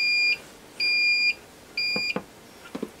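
An Akatherm CB-315 electrofusion welder under repair gives three sharp electronic beeps of uneven length, followed by a couple of light handling clicks close by.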